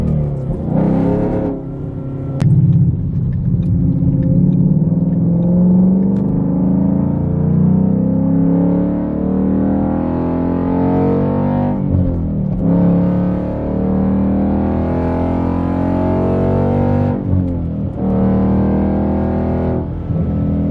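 Straight-piped Ford Mustang GT V8 revving hard for about twenty seconds, heard from inside the car with the windows up, a deep booming roar that swells and drops between blips, loud and continuous with no talking.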